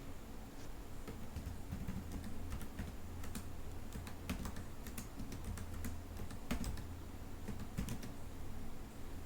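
Irregular clicks of a computer keyboard as commands are typed into the SQL command line for an Oracle database, with soft keystrokes scattered over a steady low hum.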